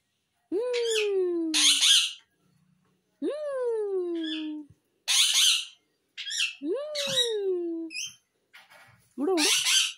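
A pet parrot gives loud, shrill squawks and rising whistled calls in separate bursts with short silences between, close to the listener, mixed with a person's calls.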